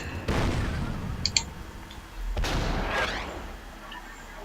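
Two deep, rumbling mortar blasts in the WW2 strategy game Order of Battle, about two seconds apart, each followed by a rolling tail, with sharp metallic clicks between them.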